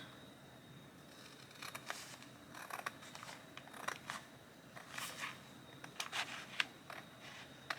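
Scissors snip a little off the edge of a paper page for a junk journal, giving a few close, quiet crisp cuts and rustles spaced irregularly across a soft room background.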